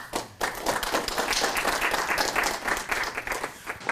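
Audience applauding at a venture capital pitch event, a dense burst of clapping that rises quickly and holds steady and fairly loud for several seconds.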